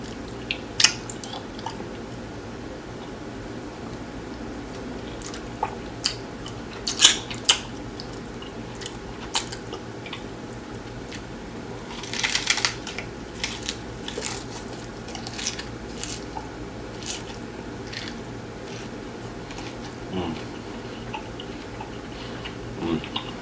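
Crunchy, spicy Samyang tacos are eaten close up, giving scattered sharp bites and crunches over a quiet background, with a few louder bursts and no talking.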